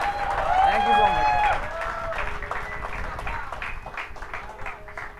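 An audience at a Haryanvi poetry performance applauds the poet. A voice is heard at first, then a sustained patter of moderate clapping carries on to the end.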